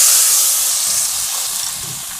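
Marinated raw banana pieces hit hot oil in a pan with urad dal, curry leaves and asafoetida, giving a loud, close sizzling hiss that fades gradually without talk.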